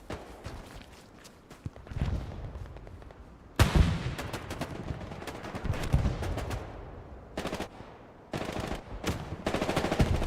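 Machine gun bursts rattle in the video game Hell Let Loose, set in Hurtgen Forest during a competitive match, with loud close volleys separated by brief lulls and faint footsteps in between.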